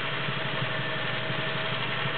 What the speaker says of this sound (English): Right now we're sewing a cam pattern.